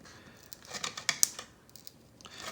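Scissors snipping and trimming a plastic Team Associated B6.3 RC buggy body, with soft crinkling and tearing of the thin shell and a few sharp cuts, close and quiet with no talk.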